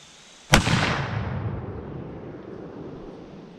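A single sharp gunshot cracks at a shooting range, fired at a top target 35 yards out, and its boom decays into a long rolling echo.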